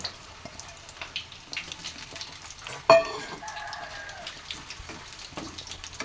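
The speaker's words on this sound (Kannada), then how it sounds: "ಆಲೂಗಡ್ಡೆ ಕಟ್ ಮಾಡಿ ಇಟ್ಕೊಂಡಿದ್ದೀವಲ್ಲ ಅದನ್ನು ನೋಡಿ ಎಣ್ಣೆಲಿ ಹಾಕಿ ಫ್ರೈ ಮಾಡ್ಕೊಬೇಕು." Small cut potatoes frying in oil, fries-style, a continuous close crackling sizzle with light stirring taps and one sharper clatter midway, steady throughout with no voices.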